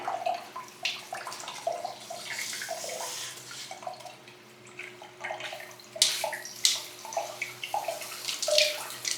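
Water from a shower spatters and splashes steadily and close by, rising and falling in loudness with irregular splashes throughout.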